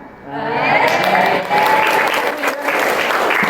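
A class of pupils chants and claps along in a classroom concentration game, voices leading with claps mixed in, close and fairly loud throughout.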